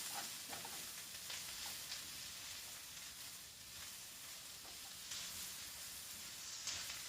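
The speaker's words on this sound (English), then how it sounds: "Mushrooms won't take that long, maybe a few minutes to stir fry" Mushrooms stir-frying in a pan make a steady, close sizzle and hiss throughout, with occasional brighter bursts as they are stirred and tossed, and no talking.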